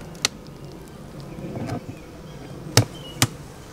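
Honey bees at an open beehive: a faint, steady background buzz of many bees, broken by a few sharp knocks and clicks from hive equipment, with no talk.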